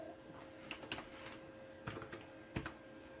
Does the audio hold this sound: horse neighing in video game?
no